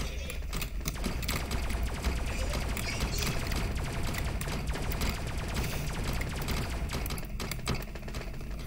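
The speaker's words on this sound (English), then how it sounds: "The hand cannon is my gun, bro." Dense, rapid hand cannon gunfire in a video game crackles continuously at close range, a steady mechanical burst of shots with a voice faintly mixed in.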